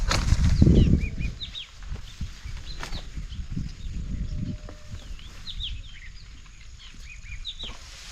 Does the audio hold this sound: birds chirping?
yes